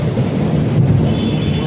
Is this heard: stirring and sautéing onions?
no